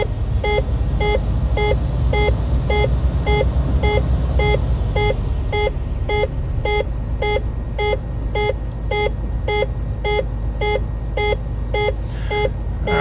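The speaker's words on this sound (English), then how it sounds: "it's not supposed to be beeping like this" A cockpit alarm in Microsoft Flight Simulator X beeps in a fast, regular series of short tones, loud and steady throughout over a low engine drone, with no talking.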